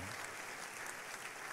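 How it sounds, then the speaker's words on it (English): Church congregation clapping together in a big worship hall, a steady, dense wash of applause that stays even throughout without any voices standing out. "Let's give the Lord Jesus a big, big clap offering"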